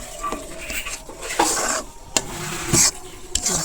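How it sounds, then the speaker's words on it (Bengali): Kakrol (spiny gourd) stuffing, flavored with cumin powder, stirred on high flame: irregular spoon scrapes and metal clinks against the pan over a soft, steady sizzle, close and moderately loud. "এটা একদম হাই ফ্লেমে এটা নাড়াচাড়া করলেই হয়ে যাবে।"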